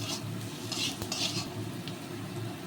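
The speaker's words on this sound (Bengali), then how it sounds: "এর সঙ্গে সুন্দর করে ভেজে নেব আনাজগুলো" Vegetables being stir-fried with leftover cooked rice in a pan: a soft sizzle beneath light scraping and clinks of a utensil against the pan, fairly quiet and steady over a few seconds.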